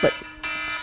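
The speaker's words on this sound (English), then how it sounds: "That's our alarm telling us to get the fuck off." An electronic alarm starts partway through, a steady bright buzzing tone that holds to the end after a brief burst of voice at the start, in an indoor podcast setting.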